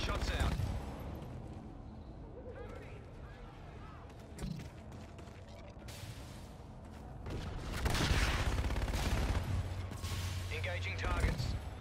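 Gunfire bursts crackle through a Call of Duty: Infinite Warfare team deathmatch, steady clatter with a heavier volley near the end, under voice chat and radio callouts.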